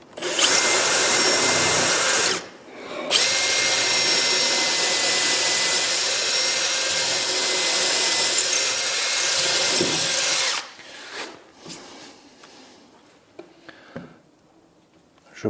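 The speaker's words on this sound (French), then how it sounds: "c'est important de percer bien droit" A power drill bores steadily and loudly into wood for a woodworker's workbench vise, two long sustained runs with a brief pause between, then winding down into quieter handling knocks.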